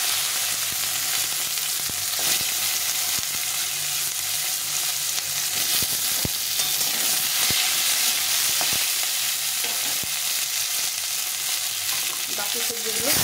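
Vegetables with green and ripe red chilies frying in a pan, a loud, dense, constant sizzle up close, punctuated by scattered clicks and scrapes of stirring.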